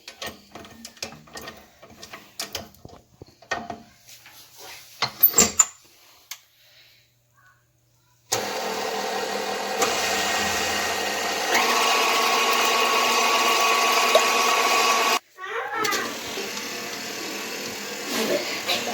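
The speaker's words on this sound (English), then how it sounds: "And then we're going to mix our egg whites until they become fluffy." An electric mixer beating egg whites for chiles rellenos switches on after scattered handling clatter, then runs as a steady loud whirring drone, cuts out briefly and restarts with a slight change in pitch.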